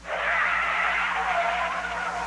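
An out-of-control truck skids with tires squealing, a loud sustained screech that wavers in pitch for a couple of seconds, close and alone.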